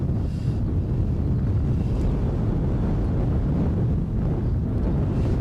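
Strong, gusty wind buffets the microphone outdoors in Edinburgh, a loud continuous roar with rumbling surges and no speech.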